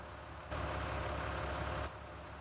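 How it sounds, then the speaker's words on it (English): A tractor engine in Farming Simulator 19 starts up and settles into a steady low idle, a loud continuous rumble lasting over a second before dropping back. "Start the engine up."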